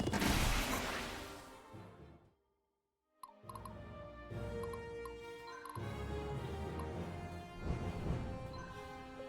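Cannon fire in a video game: dense booming blasts and crashing impacts, a brief silent gap, then sustained heavy rumbling combat with repeated explosive hits, loud and layered.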